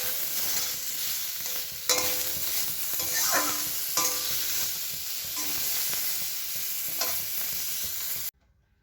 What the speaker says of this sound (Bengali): কড়াই দিয়ে দিয়েছি, ফোড়ন দিয়েছি, সর্ষে ফোড়ন দিয়ে দিয়েছি